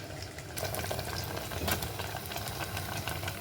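Tomatoes and onion dropped into a hot curry-leaf tempering in a pan, a sudden loud burst of frying that settles into a dense, steady sizzle, close up with no speech.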